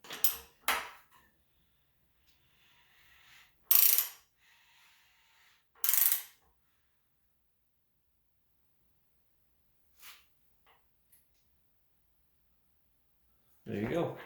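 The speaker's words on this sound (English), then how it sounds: "So we're just going to crank it with the crank bolt." A ratchet turning the crank bolt of a Honda B18B1 engine during head assembly gives a few short, sharp metallic clicks and clanks, separated by long quiet gaps, with a person talking nearby.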